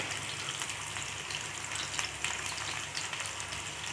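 Onions and garlic frying in a pan for a banana flower and chickpea dish, a steady close sizzle with light crackling throughout and no talk.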